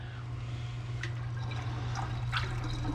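Liquid pouring into a home brewing fermenter, a soft continuous trickle and splash over a steady low hum, with a couple of brighter splashy moments, close by.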